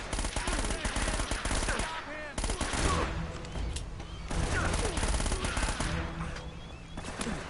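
Rapid bursts of automatic gunfire in the Uncharted: Drake's Fortune video game, loud and sustained with brief gaps between volleys.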